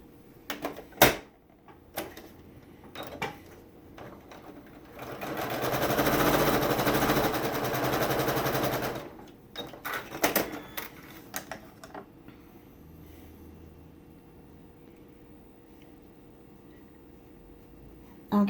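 A sewing machine stitches a log cabin quilt block in one sustained run of rapid whirring, framed by scattered clicks and handling of fabric before and after.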